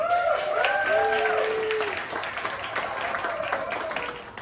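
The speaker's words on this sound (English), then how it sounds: "let's give a huge round of applause" An audience at a science comedy show at a fringe festival applauds a second speaker with sustained clapping, while a tonal whistle or cheer glides over the top early on and the applause slowly fades.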